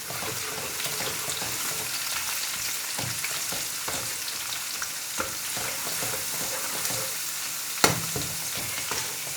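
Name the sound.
frying onion with ginger garlic paste in oil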